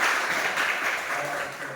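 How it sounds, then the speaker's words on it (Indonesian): Classroom applause after a lesson, a steady, even wash of clapping from a group of students, moderately loud and filling the whole short moment without pauses. "Give applause,"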